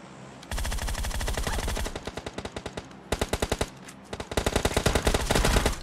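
Automatic gunfire in the mobile game PUBG Mobile crackles in fast, loud bursts with short gaps between them, close and dense, with no talk.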